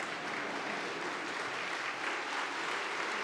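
Steady, dense applause fills a hall at a CHP parliamentary group meeting in the Turkish Grand National Assembly, a continuous wash of many hands clapping with no speech on top.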